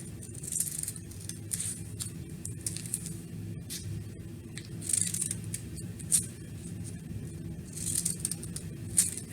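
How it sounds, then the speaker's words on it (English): Paper being snipped with scissors along a drawn line to make jagged, tooth-like edges, a steady run of soft crisp cuts close by and fairly quiet, with no one talking. "So just cut to the line, making jaggedy teeth."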